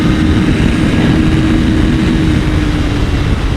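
A 2025 Kawasaki Ninja 500 SE motorcycle engine pulls in second gear while riding, a loud, steady, close-up drone with heavy low rumble and wind rush throughout and no voices.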